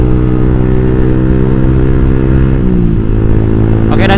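A motorcycle fitted with a Ronin Katana exhaust, set to a silent mode, rides along on a main road with a loud, steady low engine drone whose pitch shifts slightly as it cruises, close and continuous.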